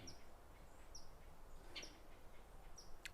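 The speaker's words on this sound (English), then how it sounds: "Birds sound real nice up here." Faint birds chirp and tweet in short, scattered calls over a soft outdoor hiss, a few quick high notes spaced out.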